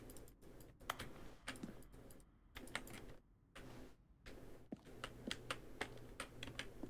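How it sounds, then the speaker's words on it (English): Button-press sounds from the video game The Stanley Parable, each a keyboard stroke blended with a synthesized tone, come as a quick, uneven run of sharp clicks, close and fairly quiet, with a few brief gaps. "A selection of the sounds used throughout the game when buttons are pressed. Each sound is a mix of keyboard stroke and a synthesized tone."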